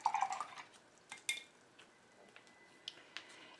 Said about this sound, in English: I'm going to rinse my brush a little bit.